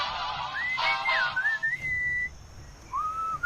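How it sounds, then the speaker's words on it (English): A clear, wavering whistled melody with sliding notes, a short pause, then a final rising phrase over soft background hum, from the video game Sam & Max Episode 202: Moai Better Blues. "What is that enchanting whistling sound?"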